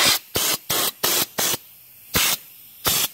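WoolWax rust-proofing coating sprayed onto a vehicle in short, even hissing bursts, six quick blasts in a row, then a pause and two more, loud and close.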